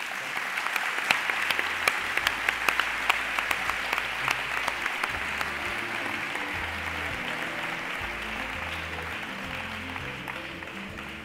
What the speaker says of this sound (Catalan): Un fort aplaudiment per a tots ells.